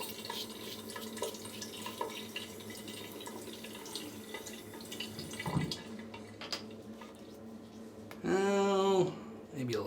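Shaving gear, a Yates Titanium 921 M razor and Shavemac brush, rinsed under a running tap: soft, steady water trickle and splashes, fairly quiet, with a brief louder gush near the end and occasional talk.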